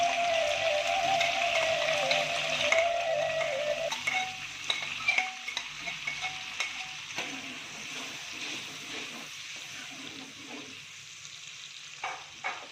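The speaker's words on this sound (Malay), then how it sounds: "Pertama kita goreng bawang merahnya dulu, bawang merah sama bawang putih" Shallots and garlic frying in a pan, a soft steady sizzle with light stirring clicks and scrapes, gradually quieting toward the end, no talking.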